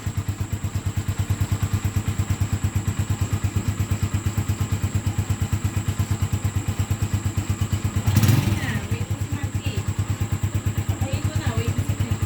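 A motorcycle engine runs with a steady, even thumping rhythm throughout. A brief clatter or bump comes partway through, and faint voices sit beneath the engine.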